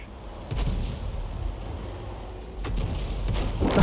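An artillery shell striking a tank in a tank battle video game, heavy thumping booms and a rumbling impact over a low steady background, moderately loud.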